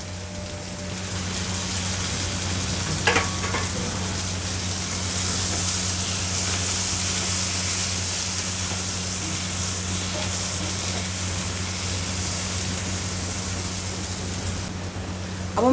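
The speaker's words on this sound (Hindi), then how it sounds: "मटर को भी एक मिनट के लिए भून लेंगे हम।" Peas and tomato fry in a pan for Maggi noodles with a steady, loud sizzle that runs the whole time, and a few brief stirring scrapes and clicks break through it.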